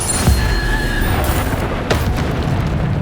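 Bombarda spell explosions in Hogwarts Legacy land as a deep boom followed by a second blast, set against constant rumbling combat noise.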